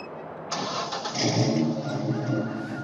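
A farm truck in the Farming Simulator 2013 video game fires up with a sudden crank and catch, then settles into a steady, moderately loud engine idle with a brief rev, heard alone.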